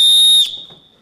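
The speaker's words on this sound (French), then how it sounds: "Ah, en effet, il marche bien le sifflet." A 3D-printed plastic whistle gives a loud, piercing, steady blast for about half a second, then cuts off into a faint trailing echo and quiet room noise.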